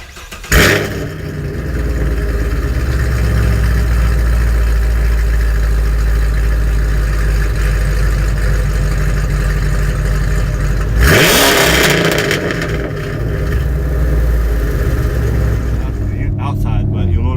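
Sixth-generation Chevrolet Camaro with custom exhaust work, engine started and held at a loud, close, steady rev for many seconds, dropping briefly before revving again.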